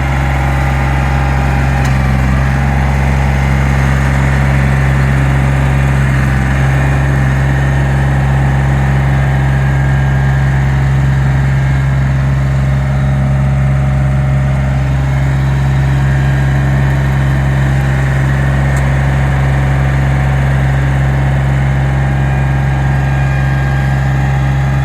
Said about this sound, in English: she's going to get the tiller now